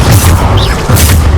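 Bombarda explosion spell going off in the game Hogwarts Legacy, a loud, dense, booming blast with a rumbling low end and a brief whistling sweep, filling the whole short moment at full volume.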